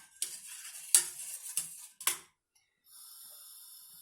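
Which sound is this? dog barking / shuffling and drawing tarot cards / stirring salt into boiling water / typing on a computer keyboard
stirring salt into boiling water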